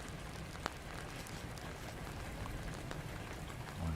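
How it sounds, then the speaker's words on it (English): Rain beginning to fall in the video game Warlord: Britannia, a dense, steady hiss of patter with scattered small ticks and drops, carrying on evenly throughout with no talk. "Okay, the rains is starting."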